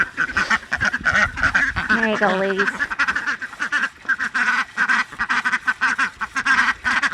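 Ducks quack in a short burst close by, while a person speaks softly over steady background noise.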